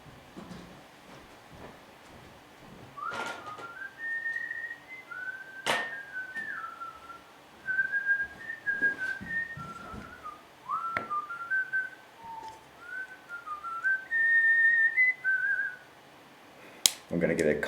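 Someone whistles a tune in short melodic phrases with pauses between them, close and fairly clear, with a few sharp knocks and bumps in between.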